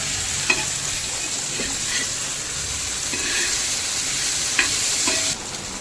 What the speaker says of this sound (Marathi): एक तिकडे एक साईडला मग मी फ्राय करते चिकन